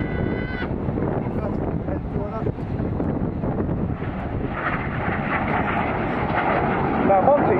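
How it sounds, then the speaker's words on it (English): Synchro pair of jet display aircraft passing in the Carousel manoeuvre at the Bournemouth Air Festival, a broad continuous engine roar with wind buffeting, loud and sustained, with commentary talking over it. "They're going to pass just 35 metres from each other in a manoeuvre called the Carousel."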